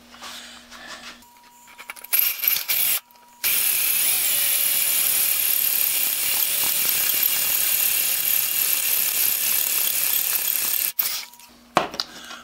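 A drill bit grinds steadily through a china tidbit tray for several seconds, loud and continuous with a high whine, stopping and restarting briefly at the start and end.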